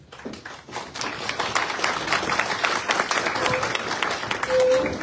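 Audience at a Conservative riding association annual general meeting breaking into applause, dense clapping that builds quickly and stays loud and sustained throughout.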